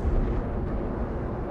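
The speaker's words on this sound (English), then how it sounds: "A nice ballistic missile support from my teammates." A ballistic missile strike lands in the video game Broken Arrow, a heavy booming explosion with a deep rumbling tail that fills the short moment, loud and close.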